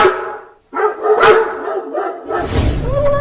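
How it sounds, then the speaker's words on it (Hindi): Several loud, close dog barks and yips in quick succession, with a brief gap near the start and rougher noise toward the end. "ये कुत्ते हमारे घर के पास आकर क्यों भौंकने लगे?"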